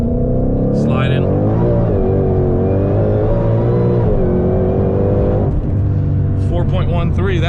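A 2020 Shelby GT500 rolls into hard acceleration on a country road, its loud close-up engine note climbing through the revs with a brief drop at a shift, a voice speaking over it at moments.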